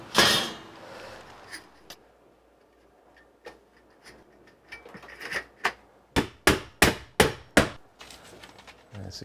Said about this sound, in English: And secure it with drywall nails.